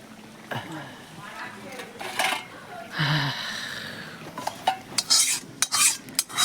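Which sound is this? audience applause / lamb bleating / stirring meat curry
stirring meat curry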